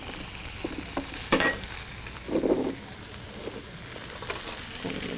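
Minced garlic and ginger sizzle in a pan, a gentle frying hiss under a few sharp scrapes and knocks from a stirring utensil.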